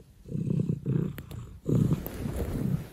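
A cat purring close up, a low rumbling pulse in long breaths with short pauses between them, loud and alone.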